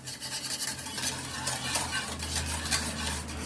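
Spoon stirring a hot, just-boiled panna cotta mixture in a pot, a steady soft swishing scrape with faint clinks, close and continuous with a low hum beneath, no voices.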